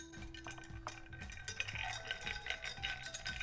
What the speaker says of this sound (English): I usually move the ice around a little bit and keep mixing it